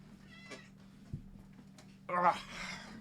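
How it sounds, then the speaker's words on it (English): A pet cat meows once, loud and near, after a stretch of quiet room noise with a few soft voice sounds and a thump. "Look at the kitty."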